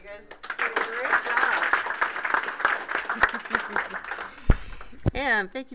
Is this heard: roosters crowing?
no